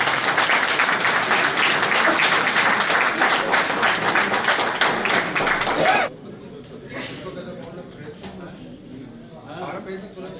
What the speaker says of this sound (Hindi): अब मंच पर उनको बुला रहे हैं जोरदार तालियों के साथ मिस्टर इंद्रजीत जी